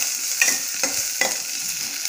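Mango pickle mixture with leaves frying and being stirred in a pan: a steady broadband sizzle with three distinct scraping stirs spaced evenly, close and moderately loud, no voices.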